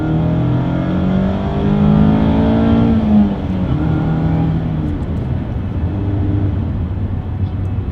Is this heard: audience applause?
no